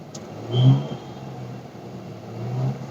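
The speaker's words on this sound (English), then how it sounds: "Let me just try revving it a bit." A Hyundai i20 N Line hatchback's engine revs up briefly and falls back, then rises again a little later, low and fairly muffled.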